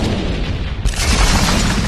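A loud, sudden boom bursts in partway through, followed by a sustained roaring rumble over dense background noise.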